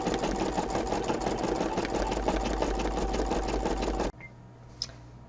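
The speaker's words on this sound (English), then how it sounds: "now I'm ready to start embroidering" Home sewing machine embroidering a design on a Dollar Tree bag, a loud, fast, steady mechanical whir and stitching chatter running close and unbroken for about four seconds before stopping abruptly.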